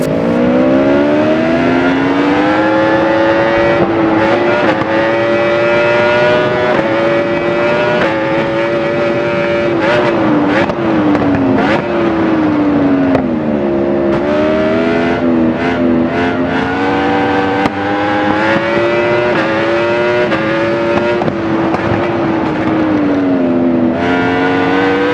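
A 2019 Yamaha YZF-R1 sport bike engine in the RIDE racing game, droning steadily and loudly with repeated rises and falls in revs as it shifts through gears, constant throughout with no talk.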